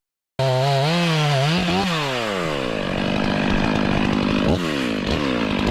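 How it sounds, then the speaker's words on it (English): A Stihl MS-500i fuel-injected chainsaw revs up loud and close, then bites steadily into a thick cedar trunk, its engine pitch swooping and dipping under load in a continuous high, buzzing roar. "MS-500i is a groundbreaking chainsaw, known for being the world's first chainsaw with electronic fuel injection."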